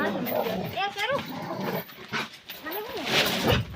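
Dog barking and whimpering on a village farm among buffaloes, several short yelping calls in the first half and again near the end, mixed with voices and outdoor noise.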